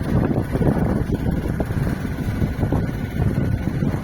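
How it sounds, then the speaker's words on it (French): Wind buffets a sailing boat at sea between Greek islands, a steady low rushing roar with gusty rumble across the microphone and no talk. "Déjà, j'ai un peu de vent."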